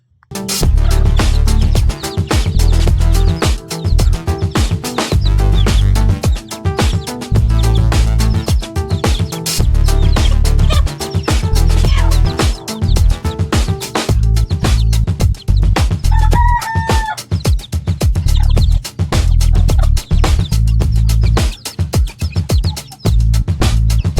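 Chicks and hens in a coop make a dense, loud, continuous chorus of peeping and clucking close by, with a short higher call rising above the flock midway through.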